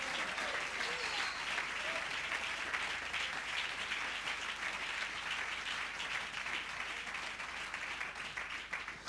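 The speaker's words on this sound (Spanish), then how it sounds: "Un fuerte aplauso al Señor." A church congregation applauds together in steady, dense clapping that fills the room evenly throughout, with a voice faintly audible beneath it.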